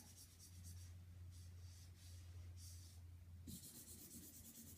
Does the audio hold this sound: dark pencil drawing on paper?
yes